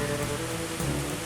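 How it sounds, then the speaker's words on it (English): Heavy rain falls during Tropical Storm Irene, a dense, even hiss of drops striking surfaces nearby, with no pauses and no voices. "Rain's been getting heavier."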